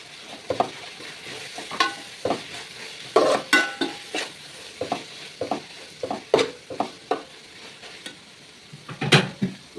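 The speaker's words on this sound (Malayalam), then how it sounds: "ഇനി ഇതിലേക്ക് നമുക്ക് മഞ്ഞൾപ്പൊടികൾ ഇട്ട് കൊടുത്തിട്ട് ഒന്ന് വഴറ്റിയെടുക്കാം." Chicken curry sautéed in a pan with turmeric powder, repeated rhythmic spatula scrapes and knocks over a soft sizzle, close and fairly loud with no speech.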